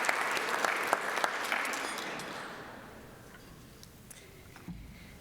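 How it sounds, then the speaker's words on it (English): Rotary club members applaud fellow Rotarians with birthdays at a meeting, a burst of clapping that starts full and then thins out and fades to scattered claps. "let's give all of our Rotarians with birthdays a round of applause"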